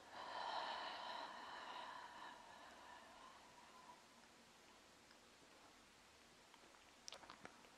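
A long, soft exhale through the mouth during a relaxing stretching session, faint and breathy, fading over a few seconds into quiet room tone, with a few small clicks near the end.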